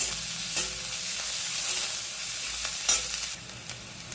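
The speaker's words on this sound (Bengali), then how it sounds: "এবার দিয়ে দেবো কুচি করে রাখা পেঁয়াজ, পেঁয়াজটাকে আমি ভেজে নেব।" Chopped onion frying in a pan for a home-style masoor dal with egg, a steady hiss of sizzling oil with occasional clicks and scrapes as it is stirred, close and without talk.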